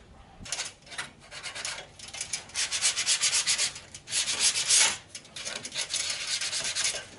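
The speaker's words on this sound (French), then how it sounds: "Alors, un bon ponçage des capots" Car bonnets are sanded by hand in a body shop, the abrasive rubbing coming in rhythmic, uneven bursts of strokes with short pauses between them.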